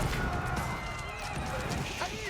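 Cavalry hooves from horse units in Age of Empires 4, a steady trampling clatter with occasional neighs, heard under continuous commentary speech.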